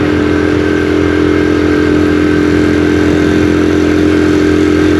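Honda CD 70 motorcycle, 2022 model, climbing a hill in fourth gear, a loud, steady engine drone with constant hum and rattle, heard close from the rider's position.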